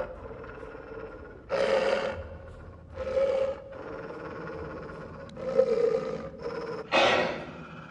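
Dog growling in the horror video game The Inpatient, a series of four or five loud, rough snarling bursts over a steady low game ambience, with no talk.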